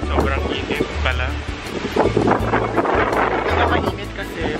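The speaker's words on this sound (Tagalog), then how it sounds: "sobrang hangin pa rin guys" Strong wind buffets the microphone at a Boracay beachfront, a continuous roaring rumble with gusty low thumps, while voices talk over it throughout.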